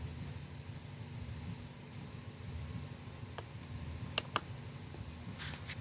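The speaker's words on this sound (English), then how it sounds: "so I'm going to click on install." Two quiet, sharp mouse clicks close together on an install button during a Windows 10 Technical Preview setup, set against a steady low computer hum.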